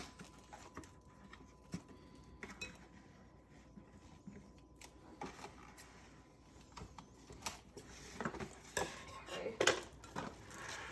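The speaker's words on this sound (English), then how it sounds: "Time to use scissors for this." Scissors snip and crinkle through plastic wrap in a kitchen, with scattered light clicks and rustles that grow busier and louder toward the end, no talking.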